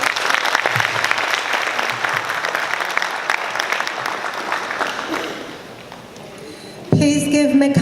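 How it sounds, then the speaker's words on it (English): An audience at a healthcare town hall meeting applauds a speaker with dense, sustained clapping that fades after about five seconds, followed by a sudden louder sound at the end. "Please give Michaela a big applause."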